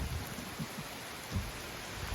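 Heavy rain pours down steadily outdoors as a dense, continuous hiss, with a few soft low thumps mixed in. No one speaks over it.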